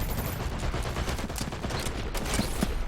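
Explosive video game airstrike during a competitive semifinal match, heard as a dense, continuous barrage of booming impacts and crackling gunfire with sharp bursts near the end.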